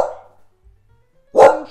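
Small dogs indoors give two sharp, close barks separated by about a second of quiet.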